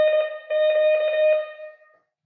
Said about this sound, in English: you hear Morse code being sent